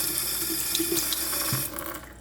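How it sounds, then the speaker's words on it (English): Tap water runs steadily into a sink as shampoo is rinsed out of a paintbrush, a close continuous splashing that drops slightly in level near the end, with no voices. "And then go ahead and rinse off any shampoo."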